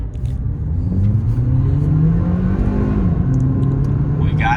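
Hyundai Veloster accelerating hard in sport mode with traction control off, heard from inside the car as a loud, steady engine drone that climbs in pitch, with a brief shift-like dip partway through.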